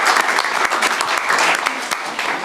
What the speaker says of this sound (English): Please give them a round of applause for all their work.